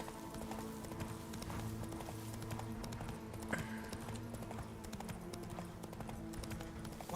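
Hooves of Geralt's horse in The Witcher 3 clip-clop in a steady, continuous rhythm over game ambience and music, close and fairly loud.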